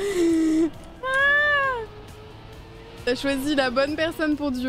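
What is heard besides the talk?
cat meowing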